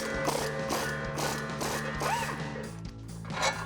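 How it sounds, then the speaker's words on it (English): Ratcheting clicks from a 21mm socket and wrench working the lower shock mount bolt on a 5.7L RAM 1500 during a coil-over install, close and steady in short bursts with metallic knocks, no talking. "take a 21mm socket and wrench to remove our bolt."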